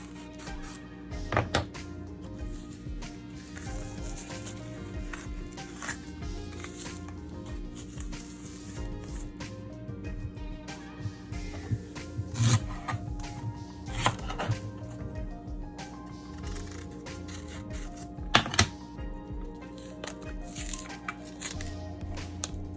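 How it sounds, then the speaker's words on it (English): Ripe plantains are peeled by hand in a kitchen, giving soft, irregular tearing and squishing sounds with occasional sharper snaps and light clatter, close up and without talk. "I'm gonna go ahead and peel these plantain"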